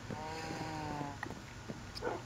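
A dog in Minecraft Skyblock gives a short, wavering whimper at the start. Softer clicks and game background noise follow, with no talking.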